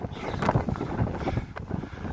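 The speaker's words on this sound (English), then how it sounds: "I don't know if you can hear me because of wind" Wind buffets the microphone on a hilltop during a hike, making a constant rumbling roar with uneven gusts and no voices.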